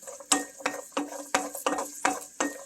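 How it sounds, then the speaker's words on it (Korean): Garlic is stir-fried in a pan for a braised dried squid side dish, with quiet rhythmic scraping strokes of a utensil about every third of a second over a faint sizzle. "마늘을 좀 볶아봅시다"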